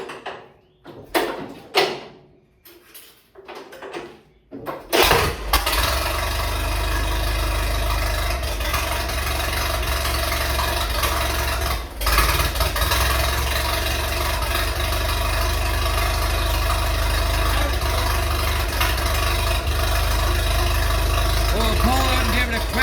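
A small crank-started engine, apparently a vintage machine, is cranked amid a few clunks and knocks, then catches and settles into a steady, loud idle that runs on continuously, close to the microphone.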